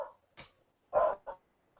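A dog barks a few times nearby, with short sharp yaps spaced irregularly and a softer one at the end, and no voices.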